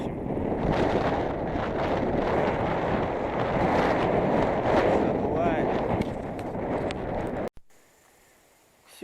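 Strong wind buffets the microphone outdoors near a village, a loud continuous roar with gusting surges that suddenly cuts to near quiet at the end.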